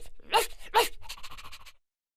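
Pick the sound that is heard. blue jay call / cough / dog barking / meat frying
dog barking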